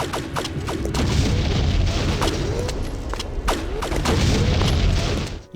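Grenade explosions in the 1999 World War II shooter Mortyr, several heavy booms in quick succession mixed with crackling gunfire, loud and close with no pause between blasts.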